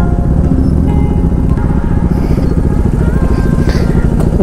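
A motorcycle with a modified aftermarket exhaust, a Duke 250 or GT650, rumbles loudly and close in a steady, throbbing idle-to-cruise beat with a deep, rapid pulsing tone.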